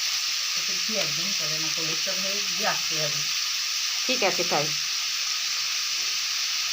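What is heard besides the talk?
frying ingredients for meat curry in a pan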